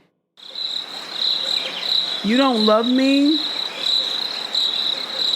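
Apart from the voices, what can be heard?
crickets chirping sound effect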